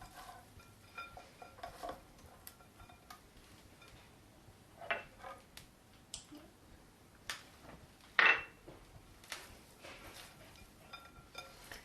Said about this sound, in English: So you just toss it, massage it in a little bit.